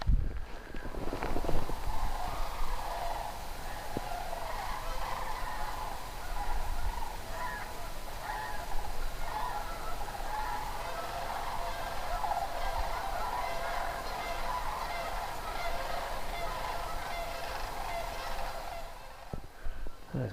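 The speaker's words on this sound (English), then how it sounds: "So it sounds like the end times over there with the geese." A large flock of geese honks and gabbles continuously at a distance, a dense chorus of overlapping calls with a few rustling steps nearby.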